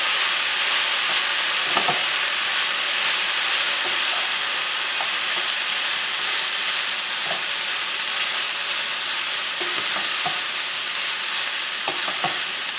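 Quinoa stir fry being stirred in a frying pan after low-sodium soy sauce goes in, with a steady close sizzle and scattered scraping clicks of the utensil throughout, no talking.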